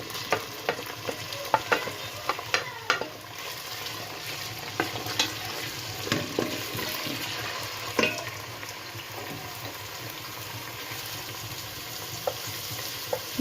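Onion sizzles steadily in a pan for sarson ka saag, a constant close frying hiss with frequent small clicks and taps of stirring scattered throughout.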